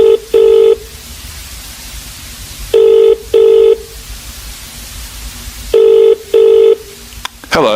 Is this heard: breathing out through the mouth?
no